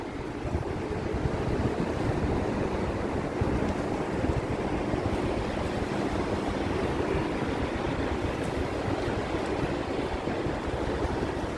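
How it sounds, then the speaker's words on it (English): Wind buffets a waterfront at the Wall Street Ferry Terminal in New York, a steady loud rush of gusts and lapping water with no talking. "Windy. This is the ferry terminal. Wall Street Ferry Terminal."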